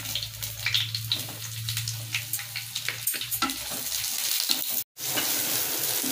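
Chopped pointed gourd (parwal) fries in hot oil in a pan, giving a steady close sizzle with faint stirring and clinks throughout, broken by a brief silent gap near the end.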